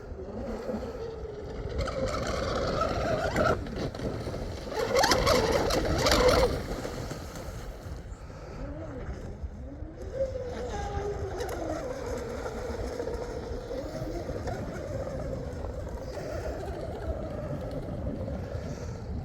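A heavy 12S electric radio-controlled Blackjack 42 boat runs continuously, swelling louder for a few seconds before settling into a steady drone, with wind and water noise around it.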